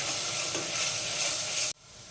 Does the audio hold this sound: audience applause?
no